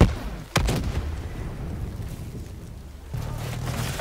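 A sharp gunshot or rocket blast cracks out early in a Call of Duty Black Ops 3 match, followed by a rumbling tail and a steady low background roar of battle, loud and close.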